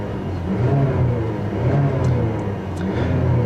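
2015 GMC Canyon pickup's 2.5 liter direct-injection four-cylinder revving, a loud, steady, smooth mid-pitched engine drone with slight rises in intensity and no talk.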